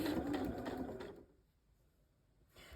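A sewing machine runs a fast, rattling stitch around an appliqué motif at a 2.4 stitch length, then stops abruptly and goes quiet before briefly starting up again at the end.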